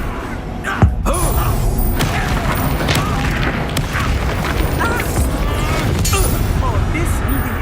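A Confringo blasting spell explodes in the video game Hogwarts Legacy with one sharp boom, followed by several seconds of crashing, rumbling debris and clattering over a dense, busy game soundscape.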